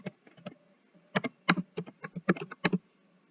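Rapid, uneven bursts of clicks from a computer keyboard as Hindi text is typed in a Krutidev-style font, close and clear, with no voices.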